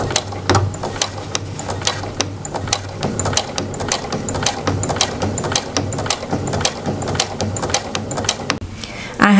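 A domestic sewing machine stitches bias tape close to the edges of a garment casing, made from McCall's 8214. Its rapid, steady needle clatter carries close and continuously, with a voice talking over it.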